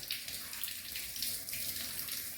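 Hot water streams from a sink tap into the basin during handwashing, a soft continuous splashing rush heard close and alone.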